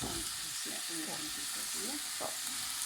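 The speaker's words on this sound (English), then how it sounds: "Now we're going to give that a big stir and just get everything mixed well." Vegetables with ginger, garlic, cauliflower and peas for a vegan Hyderabadi biryani frying and being stirred in a pan, a steady close sizzle with scraping stir strokes, and a voice faintly murmuring.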